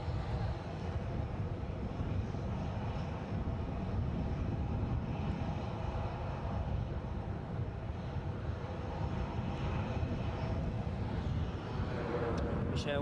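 A British Airways Embraer 190 passing near Edinburgh airport, a continuous broad jet roar at a moderate distance with some wind buffeting on the microphone, steady throughout.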